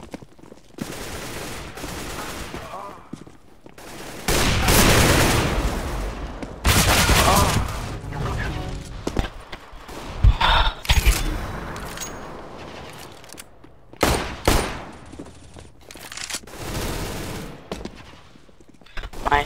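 Counter-Strike: Global Offensive deathmatch gunfire, loud bursts and single shots that come and go in clusters, with quieter gaps and some players talking.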